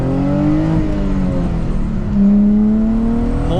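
Nissan G35 engine revving in a car set up for drifting, the pitch climbing and then hanging high for a couple of seconds before easing off, loud and close from inside the cabin with no talking.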